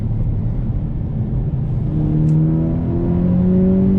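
Volkswagen T-Roc R four-wheel-drive crossover accelerating hard out of a corner, its engine note climbing steadily and loudly with rising pitch, a brief crackle from the rear exhaust partway through.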